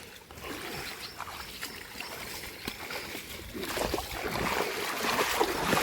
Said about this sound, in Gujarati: પાણી પણ જોરદાર આવેલો હવે.